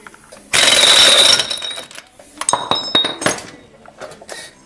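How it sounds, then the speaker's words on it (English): An impact gun removes a nut from the brake hub of a K5 Blazer square body, a loud close rattling burst followed by metallic clinks and clatter of loose parts. "I'll also just take that out with the impact gun, same way I did before"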